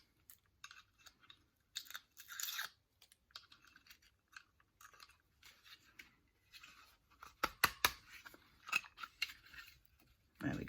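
A handheld paper punch cutting shapes out of vellum paper, giving sharp clicks and crunchy snaps in irregular bursts, close and fairly quiet with pauses between presses.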